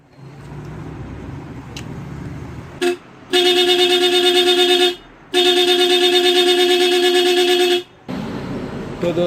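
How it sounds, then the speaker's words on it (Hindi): A double horn wired through a relay blares in two long, loud, steady bursts, separated by a brief gap and a short preliminary toot, with quieter background noise before and after. "अब हम इसको बजा के देखते हैं हॉर्न को।"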